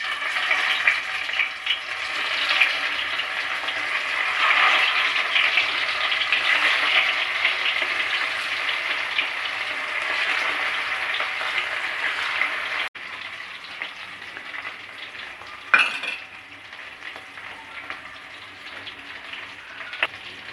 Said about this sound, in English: once the oil is heated, we have to fry the potatoes.